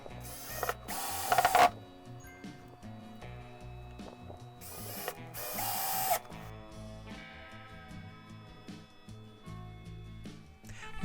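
Screws are driven to mount a bridge on a Stratocaster-style guitar body from a kit, with short bursts of a powered screwdriver whirring, ratcheting clicks and mechanical rattling close by.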